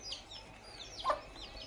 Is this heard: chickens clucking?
yes